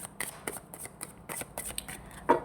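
Tarot cards are shuffled up close in a run of quick, crisp riffles and flicks, with a sharper snap of the deck at the end.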